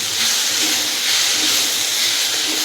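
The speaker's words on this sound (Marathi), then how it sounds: "आता हे टोमॅटो आहे ते सॉफ्ट होईपर्यंत मऊ होईपर्यंत परतून घ्यायचे आहेत" Chopped tomatoes sauté in a hot pan while cooking matar paneer gravy, giving a loud, steady broadband hiss and sizzle that continues without a break, close by.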